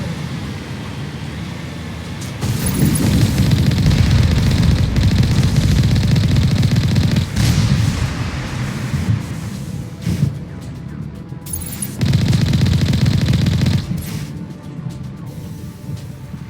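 Heavy artillery and gunfire from the Mass Effect video game, a loud sustained barrage of booming low rumble with bursts of blasts, briefly dipping around the middle before surging again.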